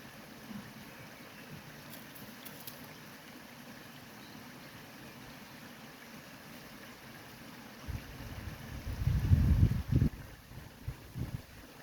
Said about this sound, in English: I'm gonna just let you enjoy the noise of the water